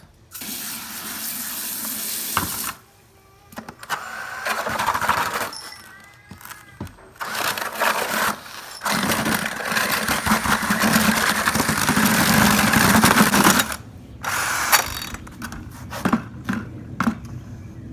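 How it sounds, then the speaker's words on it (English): A power drill with a mixing paddle whirs in bursts, mixing thinset flooring mortar in a bucket, with brief pauses between runs and some sloshing, scraping sounds. "we're going to mix it up with the drill again"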